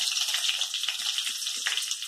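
Whole garam masala spices with bay leaf sizzle in hot oil in a wok, a dense, steady crackling hiss with small pops and spits throughout.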